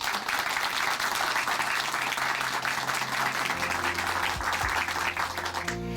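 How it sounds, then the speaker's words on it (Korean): Congregation at Chuncheon Hanmaeum Church breaks into loud, sustained applause, a thick unbroken roar of clapping that holds steady before fading as music starts to rise at the end. "우리 이명규 형제님께 다시 한번 큰 박수 보내드리겠습니다"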